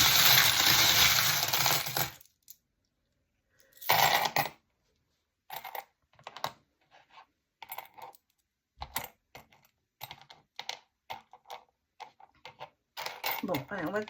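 Small charms are tipped out and spread across a table: a loud pouring rattle at first, then a scatter of light clicks and taps as pieces are moved about, with quiet gaps between.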